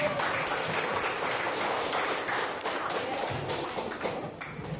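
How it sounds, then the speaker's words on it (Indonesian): A classroom of students applauds, with a dense burst of quick clapping that fills the room and holds steady before easing slightly toward the end. "beri aplaus dulu ke kakak"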